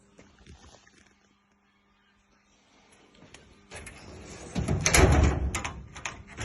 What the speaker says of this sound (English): the drawers on these pull right out, so you get the full use of the drawer